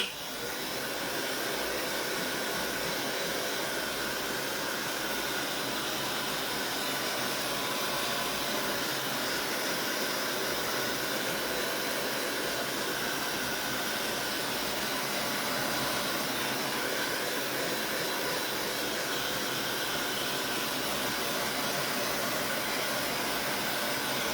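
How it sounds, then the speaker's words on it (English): A heat tool or blow dryer drying crackle medium on a snowman craft project, giving a steady, even blowing hiss that runs unbroken the whole time at moderate level. "You can use a heat tool or a blow dryer to dry that crackle medium."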